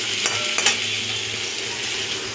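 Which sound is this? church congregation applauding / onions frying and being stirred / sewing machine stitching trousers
onions frying and being stirred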